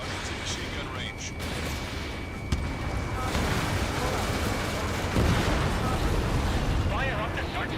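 Rapid machine gun fire and heavy booms in an air combat video game, a dense, loud barrage of bursts and explosions with game radio chatter mixed in.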